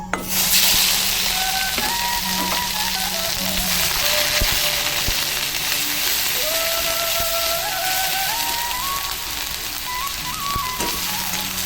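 Onion, ginger and garlic paste frying in leftover fish-frying oil with cumin, giving a steady, loud, close sizzle and hiss that runs unbroken throughout, with faint background tones and no talk.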